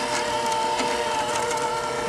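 A KitchenAid hand mixer with a whisk runs steadily at its slow setting, a continuous even motor whir with a faint high tone, close and uninterrupted.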